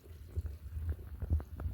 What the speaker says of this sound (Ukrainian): От тут шланг, вода береться і сюди стікає відерко.